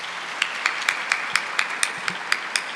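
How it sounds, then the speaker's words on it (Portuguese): Congregation at a Catholic Mass applauding after the Gospel reading, a run of fairly even claps spaced about a quarter second apart over a soft room wash, moderately near. "Pode aplaudir a palavra do Senhor."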